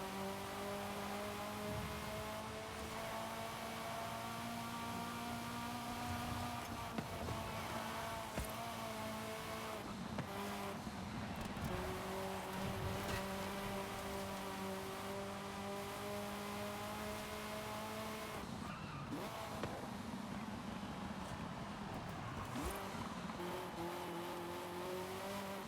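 A video game sports car, a Lamborghini racing against an RX-7, roars continuously through gear changes and revs, with tire squeals and skids breaking in repeatedly over the steady engine drone.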